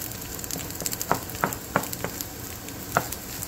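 Shrimp fried rice with egg frying in a hot pan, a steady close sizzle broken by a few sharp scraping stirs of a spatula.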